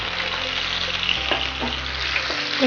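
Sliced onion sautés in a pan with oil, a continuous close hiss of frying with a few light stirring scrapes, steady and fairly loud across the short stretch.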